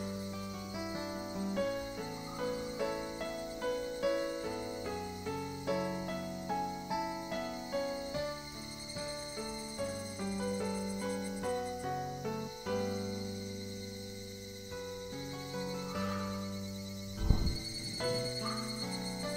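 Evening cicadas chirp in the Higurashi visual novel game, a thin, steady high buzz running faintly beneath loud, continuous piano-like background music for the whole stretch.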